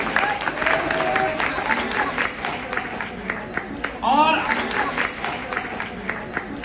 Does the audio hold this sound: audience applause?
yes